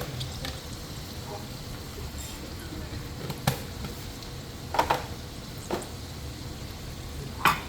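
Mustard seeds and fennel seeds sizzle steadily in hot oil, a soft continuous hiss broken by a few sharp, scattered pops and crackles over several seconds.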